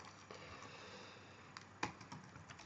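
Keystrokes tap on a computer keyboard in a quiet room, scattered clicks with a few sharper, louder presses toward the end, soft and close with no voices.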